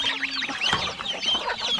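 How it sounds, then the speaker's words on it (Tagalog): Domestic geese and guinea fowl raising a loud racket nearby, with repeated harsh cackling and honking calls overlapping in quick, uneven bursts. "Dahil po sa ating mga gansa at sa ating mga ginya"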